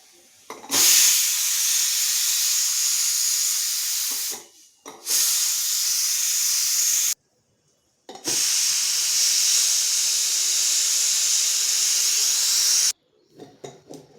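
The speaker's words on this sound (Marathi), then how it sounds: "आता कुकरच्या आतमधली थोडीशी वाफ आपण अगदी 2 मिनिटासाठी ठेवूयात आणि नंतर कुकरचं झाकण काढूयात" Pressure cooker releasing steam after cooking rice gives loud, steady hissing in long bursts, broken by brief pauses, close up and with no talk.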